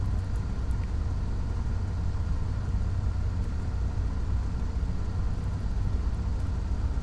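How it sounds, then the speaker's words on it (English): Airplane engines droning in the Flight Simulator X game, a steady, loud low rumble and hum that holds unchanged throughout with no other sounds. "I'm trying to listen for the sound of the engines"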